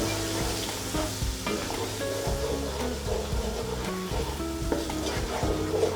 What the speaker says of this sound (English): I'm going to give that a mix, mixing them spices with the onions and the oil.